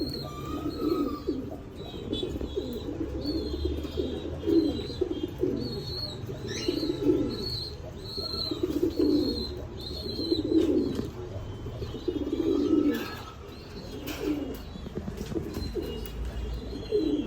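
Red Lahore pigeons coo in repeated, throaty phrases at a steady rhythm, close by, with faint high chirps from other birds in the background.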